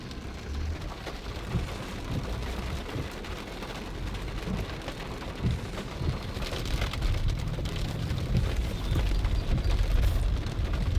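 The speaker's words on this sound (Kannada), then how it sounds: "ನೋಡಿ ಮಳೆ ಬರ್ತಾ ಇರೋದು" Rain pours in Tumakuru, a steady, dense patter and wash of drops on surfaces that swells slightly louder toward the end, with no voices.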